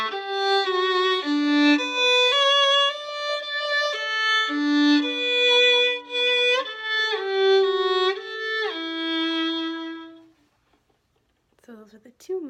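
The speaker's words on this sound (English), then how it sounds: "and then the cello comes in with sort of a slightly different melody," A bowed string melody sings in a lower register, with long sustained notes and rich harmonics, then stops abruptly, leaving brief faint rustling at the end.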